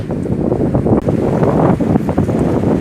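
Strong wind roars and buffets the microphone in a steady, loud rush with low rumbling gusts throughout, outdoors in Balıkesir, Turkey.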